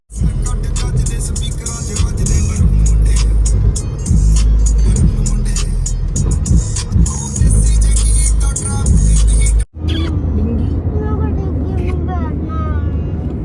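A car drives along during a family trip to Vaishno Devi, its engine and road noise forming a loud, continuous rumble inside the cabin while people talk over it.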